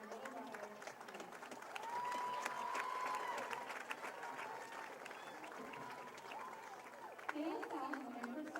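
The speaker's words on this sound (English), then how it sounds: "Please give a round of applause for our winner, Norm Mayer" A crowd at a high school football broadcast applauds a service award winner, with clapping and light cheering held under an announcer's voice and a sustained tone running through the middle.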